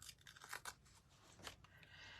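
Scissors cut a sheet of paper in half with a few crisp snips and a soft rustle of paper, quiet and close, with no voices.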